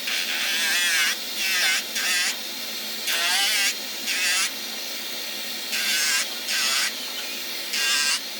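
A rotary tool fitted with a tungsten carbide burr carves a small Halloween pumpkin charm, giving a high, whining buzz in repeated short bursts of about a second, close by, with brief pauses between passes.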